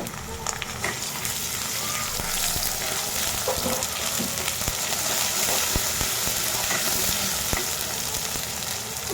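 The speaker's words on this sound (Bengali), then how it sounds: "আমার পেঁয়াজ রসুন ভাজি হয়ে গেছে এক চামচ আদা দিয়ে দিলাম এক চামচ রসুন দিয়ে দিলাম" Onion, garlic and ginger sizzle steadily in a hot pan for a Bengali hilsa fish curry, a dense close-up crackle with occasional stirring scrapes and no talking.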